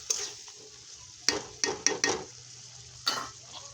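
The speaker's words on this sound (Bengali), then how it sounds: "দিয়ে দিচ্ছি ধুয়ে রাখা চিংড়ি মাছগুলো। এটা ভালো করে নেড়ে চেড়ে মিশিয়ে" Shrimp being stirred in a cooking pan, with several distinct scraping clatters of a utensil against the pan over a low, steady sizzle, close and fairly clear.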